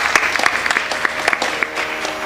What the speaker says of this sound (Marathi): टाळ्यांचा कडकडाट.